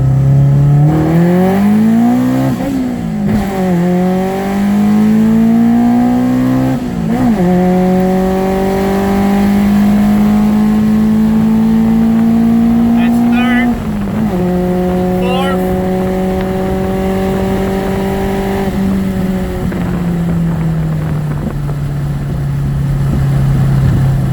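A Honda CRX with a D16Z6 engine pulls hard from first through fourth gear, the loud engine note rising steadily and dropping sharply at each of three shifts before easing off at the end.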